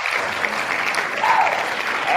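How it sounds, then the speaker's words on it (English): Recorded applause played on a podcast, a dense wash of crowd clapping throughout with a brief tonal sweep in the middle, fairly loud and up close. "you got to get applause"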